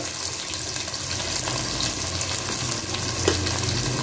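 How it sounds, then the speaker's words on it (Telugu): Onions fry in oil with cloves, cinnamon and green chillies for goat head curry, a dense continuous sizzle with light stirring scrapes, close and steady throughout. "ఈ ఉల్లిపాయలు కొద్దిగా రంగు మారే వరకు ఆయిల్లో ఫ్రై చేద్దామండి"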